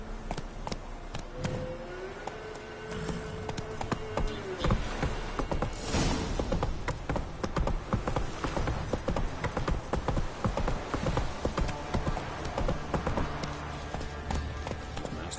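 Roach the horse trots in The Witcher 3, hooves clip-clopping in a steady, fairly close rhythm under game ambience, with a brief rise of louder hoof and movement noise partway through.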